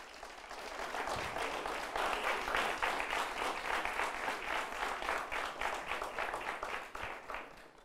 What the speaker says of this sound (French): Je voudrais demander au public d'applaudir ces 8 gladiateurs.